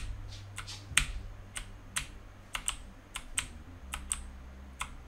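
Keys pressed on a computer keyboard during retro game programming, giving a string of sharp, irregularly spaced clicks close by over a low steady hum.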